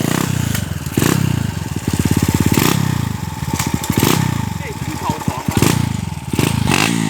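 Honda Sonic motorcycle with a 66 mm piston, 9 mm stroke and CB head, its engine revved hard in first gear in loud repeated bursts, with popping and clattering between revs.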